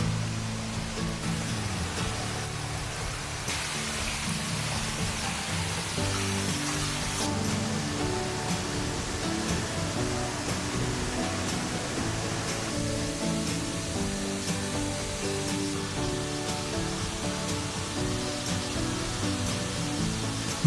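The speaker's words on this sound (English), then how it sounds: "Beautiful scenic waterfall." Steady, dense roar of a scenic waterfall along the Gorge Loop Trail near Sugarcreek, a continuous broadband rush of falling water that holds an even loudness throughout with no voices.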